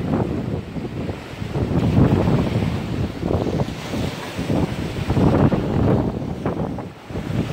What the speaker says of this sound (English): Can you all hear the wind?